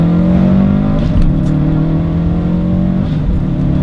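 Race car engine droning loud and steady with strong low harmonics, pitch sagging slightly as it runs through a gear change, continuous and close with no voices.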